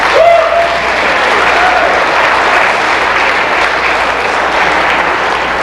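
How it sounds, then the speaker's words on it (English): An audience at a Polish polka music show claps loudly and continuously, a dense sustained wash of applause from a crowd filling the whole stretch, with a brief tonal whistle-like sound near the start. "give me a show of applause if you're really enjoying this"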